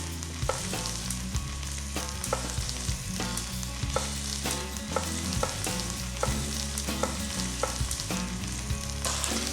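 Sliced onion and pepper fry in grapeseed oil in a pan, a steady close sizzle with frequent stirring clicks and scrapes throughout.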